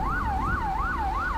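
An ambulance siren in the police mod of the video game GTA 5, a loud rising-and-falling wail that cycles about four times, heard alone with no talking.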